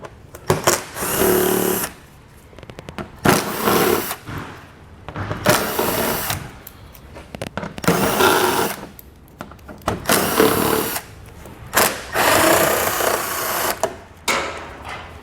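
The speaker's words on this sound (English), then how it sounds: "We're going to be doing this with a 7mm socket." Power tool with a 7mm socket driving out bumper-cover screws on a 2019 Buick Envision, heard as several loud whirring bursts of a couple of seconds each, separated by short pauses.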